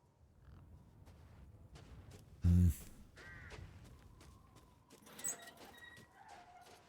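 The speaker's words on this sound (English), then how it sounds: "I hear a crow nearby somewhere." A crow caws in Resident Evil Village, a few harsh calls spread out over several seconds, faint and somewhat distant against quiet game ambience.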